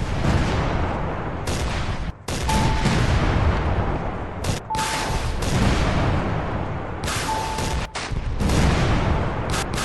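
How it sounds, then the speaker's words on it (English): A military strategy game's battle scene at Dien Bien Phu, with ground units automatically attacking, produces dense, continuous gunfire and artillery booms that roar almost without pause, broken only by a few brief gaps. "Ready for some fireworks?"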